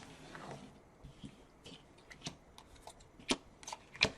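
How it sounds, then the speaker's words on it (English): Rolling Realms cards are shuffled and mixed by hand, giving soft scattered rustles and flicks with a few sharper snaps near the end, close and quiet with no talking. "any one player is going to basically mix theirs up and then flip over 3 cards"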